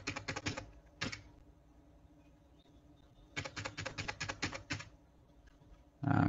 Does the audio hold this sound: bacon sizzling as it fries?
no